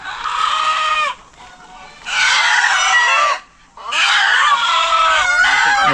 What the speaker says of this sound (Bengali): এই তিনটা মুরগি